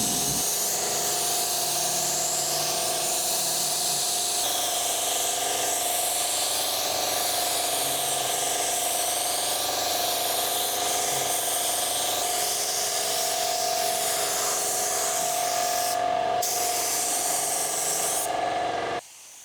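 Spray gun laying a final coat of clear over a car body in a home garage with no booth, a steady continuous broadband hiss running nearly twenty seconds before cutting off at the end.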